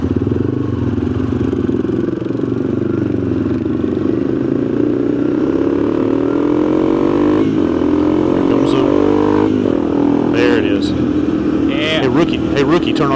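A Rokon goat-trail motorcycle idles and then pulls away, its engine a steady low drone that rises slightly as it moves off. People talk over the engine throughout.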